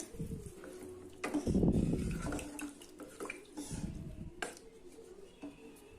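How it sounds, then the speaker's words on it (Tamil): Water is poured into a pressure cooker with a brief splashing gush, followed by light clinks of metal cookware, quiet and close. "நான் இன்னும் அரை கிளாஸ் அளவுக்கு தண்ணி ஊற்றுறேன்"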